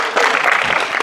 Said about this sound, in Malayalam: ഒരു കയ്യടി മാഷിന് കൊടുക്കണം നമ്മൾ